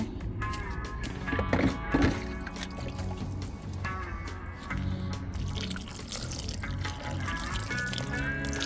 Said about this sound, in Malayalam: നട്ടേക്കുന്ന ചെടികളെ പിന്നെയും വെള്ളം ഒഴിച്ചോട്ടെ